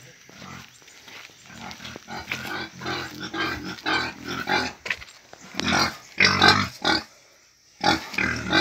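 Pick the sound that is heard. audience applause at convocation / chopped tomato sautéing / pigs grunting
pigs grunting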